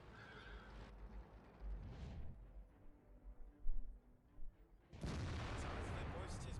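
A heavy SU-152 tank gun fires in a tank video game, a loud booming blast that rolls into a sustained low rumble, after quieter distant thuds and muffled impacts.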